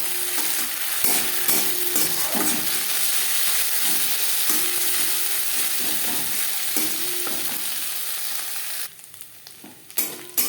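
Chopped onions frying in a pan with ginger paste and green chili paste, a continuous close sizzle with repeated stirring scrapes that drops away near the end, with no talk.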